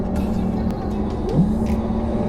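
A Porsche Taycan GTS electric car makes a synthetic driving sound, a steady tonal hum with a brief rising and falling whine partway through. It stays fairly loud and continuous over a low road rumble.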